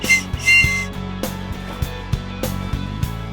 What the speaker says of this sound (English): A whistle to attract attention can also be handy.